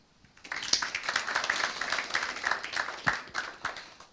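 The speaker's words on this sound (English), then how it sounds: "Please welcome him with a round of applause." A modest audience at a Ramadan TED-style talk claps to welcome a speaker, the clapping swelling quickly, holding at a moderate level with distinct individual claps, then easing off.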